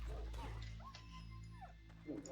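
A dog whimpers and yips in the video game FATE, a short high, wavering whine with a few sharp yelps over a steady low game hum, while a voice speaks briefly.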